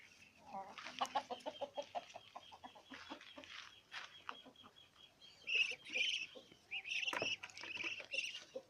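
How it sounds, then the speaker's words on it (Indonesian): Muscovy ducks about two months old move around their pen with soft clucking, pattering and scattered hisses, short bird calls rising near the end amid light rustling. "Mari saya tunjukkan kandang entok saya."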